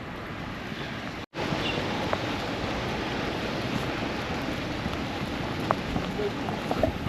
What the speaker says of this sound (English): Just won't stop raining in Queenstown at the moment